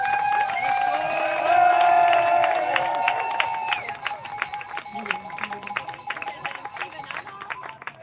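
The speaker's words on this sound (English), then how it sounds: "Let's give them a big applause." A crowd greets rowers arriving at the finish of an Atlantic ocean rowing race. High whistle-like tones and cheering come first, then a run of steady rhythmic clapping, with people talking over it.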